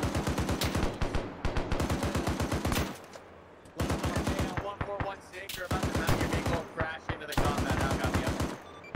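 A mounted machine gun fires in a military shooter video game: loud, rapid bursts of rattling shots, close up, broken by brief pauses between volleys.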